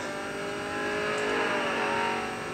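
A twin-screw supercharged car held at full throttle on a race track: a loud, continuous engine drone with a strong whining harmonic that rises slightly and stays close throughout.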